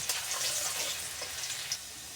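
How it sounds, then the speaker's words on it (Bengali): Onions fry in oil in a Bengali home kitchen, browning before fish is added. A steady, close crackling sizzle runs throughout with small popping bursts and no voices. "খালি যে এই পেঁয়াজটা একটু লাল লাল করে ভাজা হইলে আমি মাছটা একবারে দিয়ে দিব।"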